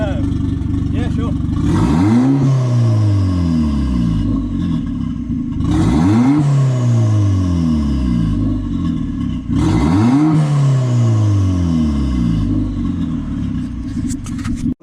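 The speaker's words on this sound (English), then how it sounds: "Give it some revs" A turbocharged Hyundai Getz engine is revved three times in a row, each blip climbing sharply then falling back to idle, loud and close, with brief talk over the idle between revs.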